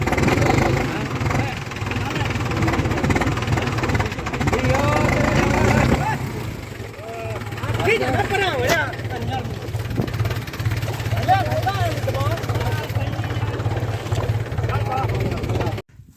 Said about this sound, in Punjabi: ਆਪਾਂ ਲੈਂਦਾ ਇਹ ਟਰੈਕਟਰ ਕੱਢ ਕੇ ਬੜੀ ਮੁਸ਼ਕਲ ਨਾਲ